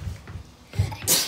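A single sneeze bursts out close by after a short breath in, ending in a sharp, hissing release.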